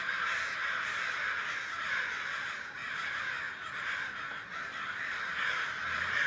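A crow caws over and over in harsh, rhythmic calls, loud and close, with no other sounds around it.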